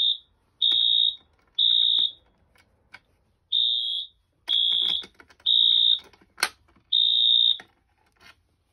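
A Simplex T-bar fire alarm sounding during a system test, giving loud, piercing electronic tones in repeated pulses with short gaps between them, close by and with no talk.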